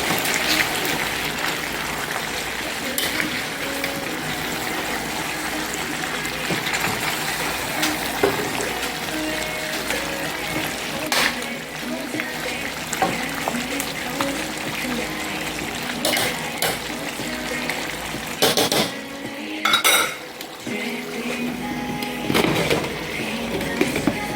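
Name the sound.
stirring Jamaican brown stew pork in a pot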